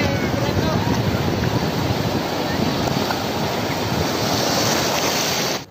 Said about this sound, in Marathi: आज आपण चाललो आहोत केळवे बीचवरती